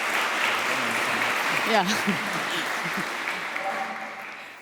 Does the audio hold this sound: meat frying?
no